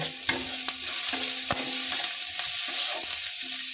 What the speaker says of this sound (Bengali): তো এবার আমি কড়াইতে কিছুটা পরিমাণ দিয়ে দিলাম রিফাইন তেল। তো এবার পেঁয়াজগুলো ভেজে নেব।